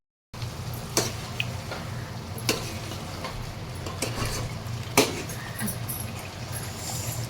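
Eggs simmering in a masala gravy in a pan give a steady low sizzle and bubbling, broken by a few sharp clinks and scrapes of a spoon stirring against the pan.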